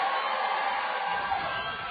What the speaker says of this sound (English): Here's the 2-2 pitch to Trumbo with the crowd roaring.